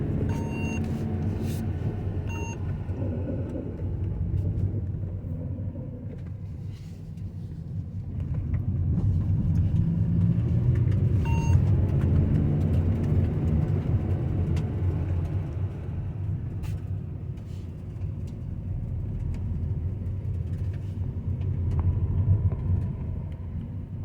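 A car cruising steadily along a road, its engine and tire rumble holding a continuous low drone that swells slightly midway and persists at a fairly even level throughout, with no voices.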